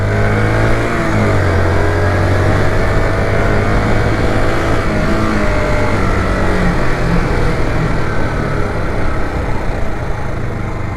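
A used motorcycle that had long sat unridden climbs a hill in downtown Los Angeles, its engine droning loud and steady throughout with rising pitch as it pulls uphill.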